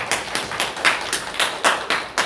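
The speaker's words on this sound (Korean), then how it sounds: "우리 하나님께 감사의 박수로 먼저 영광 올리겠습니다." A church congregation at a Sunday Easter worship service clapping in thanks, about ten crisp, evenly spaced claps in a steady rhythm, fairly close and alone without talk.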